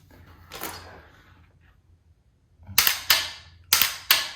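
Sharp metallic clicks with no talk, from a rifle trigger dry-fired with a MantisX laser trainer: one softer snap, a pause, then four crisp clacks in quick pairs, close by and fairly loud.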